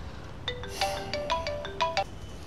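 A phone ringtone plays a bright, melodic run of electronic beeps in short bursts, fairly loud and close, with no talking over it.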